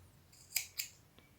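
Scissors snip through crochet yarn twice in quick succession, close and crisp, followed by a faint small click, in a quiet room with no talking.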